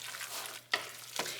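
Spoon folding a thick spinach artichoke dip mixture seasoned with salt and pepper, giving two short soft wet squelching strokes close by over a steady low background hum.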